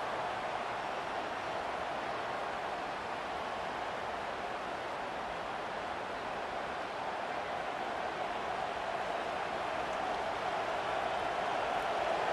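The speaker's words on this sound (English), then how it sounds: "The roar of the crowd trying to fuel this defense to keep them pinned in their own end" Home stadium crowd at a Georgia vs. Texas college football game roaring steadily, a broad, continuous wash of noise that holds at full strength without pauses throughout.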